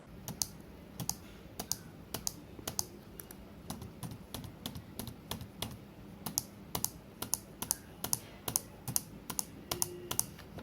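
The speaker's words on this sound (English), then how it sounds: "Once the keyboard is plugged in, I give it a test." Rapid, irregular clicking of a used Asus A43SD laptop keyboard's keys being pressed one after another, crisp and close, with no talking; the W key sounds snappier than the others.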